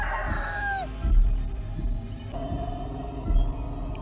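Chicken clucks and squawks from a video game, a few short calls standing out over a busy game soundtrack with a rising whistle-like tone early on.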